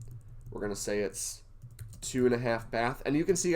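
Mouse clicks on text boxes during real-estate listing template editing, quick light taps heard under a person talking at close range.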